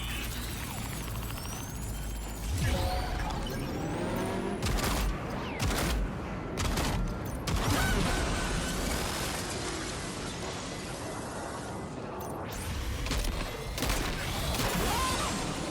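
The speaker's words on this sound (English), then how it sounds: "Three shots from a shotgun just feels like way too much." Shotgun fired in the Death Stranding 2 video game: several heavy blasts spaced over a noisy combat stretch, with clanking mechanisms and chaotic impacts between them, loud and close.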